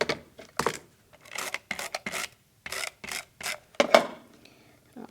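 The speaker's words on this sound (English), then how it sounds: "so we'll just do a little trim there." Black gingham ribbon is trimmed for a handmade card, heard as a run of short, close rasping and snipping sounds in irregular bursts, with no talk.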